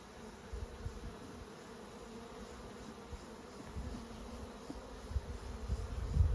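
Dense, steady buzzing of honey bees close by at an open nucleus hive, a constant drone that swells slightly louder toward the end.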